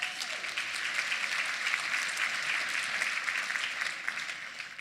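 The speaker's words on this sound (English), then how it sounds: "Let's give them a round of applause" An audience at a keynote talk gives sustained applause, a dense and even wash of many hands clapping that holds steady throughout and sounds somewhat distant.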